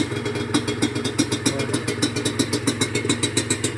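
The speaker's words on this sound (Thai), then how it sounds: "จะอุ่นเครื่องมันไปก่อน" A Honda NSR150RR motorcycle engine warms up at a steady idle close by, its exhaust beating in a quick, even pulse that stays level throughout.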